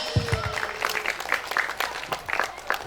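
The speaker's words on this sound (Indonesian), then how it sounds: "Kita persilakan, kita kasih tepuk tangan, boleh?" A short burst of applause at a school job fair, scattered claps from a small audience, fairly close, lasting the whole moment with uneven rhythm.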